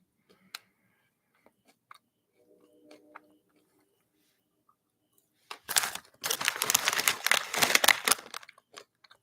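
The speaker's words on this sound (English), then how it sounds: "I wonder if y'all could hear me chewing." Someone chews food close to the mic, a dense stretch of moist crunching and smacking lasting about three seconds after scattered small clicks and quiet.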